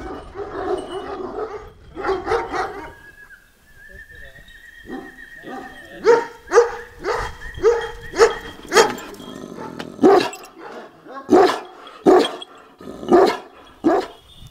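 A Kangal dog barks in a series of deep, loud, rhythmic woofs close by, with someone talking before and between the barks.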